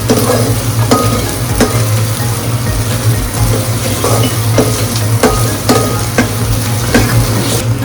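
Red chilli paste sautéing in hot oil for a Malvani prawn curry, with a loud, close, continuous sizzle, regular stirring scrapes and a steady low hum underneath.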